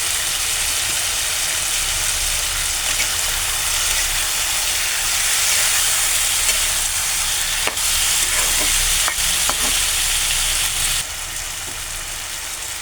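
Potatoes with salt frying in a pan for a posto dish, a steady loud sizzle running throughout with occasional stirring scrapes and clinks, no talking.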